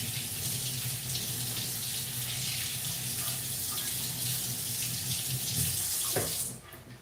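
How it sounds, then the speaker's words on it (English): Tap water runs steadily into a kitchen sink, rinsing a kabocha squash with a continuous splashing gush that cuts off near the end. "It's okay. We'll just rinse it."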